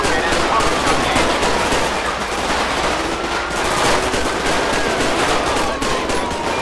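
Dense, continuous gunfire fills a shootout in a GTA 5 police mod, rapid crackling bursts loud and close with no break, shouting voices buried underneath.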